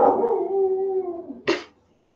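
A dog gives a drawn-out howl that wavers and falls, then ends with one sharp bark, fairly close and alone.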